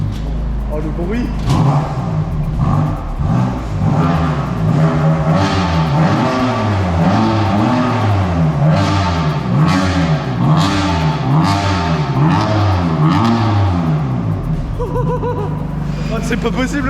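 Loud BMW M3 engine revving repeatedly, rising and falling in pitch in quick bursts, with people chattering and laughing nearby throughout.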